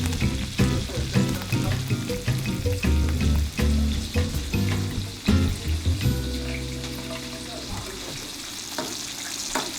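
A steak sears in a hot pan with a loud, close, continuous sizzle and crackle, scraped and stirred at moments, with a few clatters of cookware and no speech.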